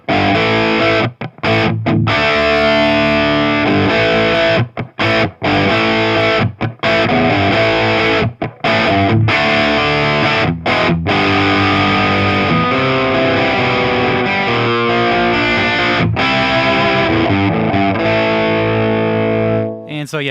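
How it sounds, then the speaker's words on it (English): An electric guitar strums plain open chords through a Marshall mini head amp, with heavy distortion and a loud, gritty tone. Chords ring continuously with short gaps between strums. "it just rips playing it out of this Marshall with those just plain open chords"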